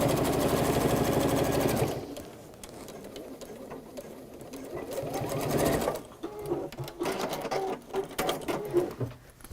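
A sewing machine stitches through fabric and lining in a steady, rapid run, pauses briefly, then starts again in a shorter, uneven burst of stitching, close and clear with no talk over it.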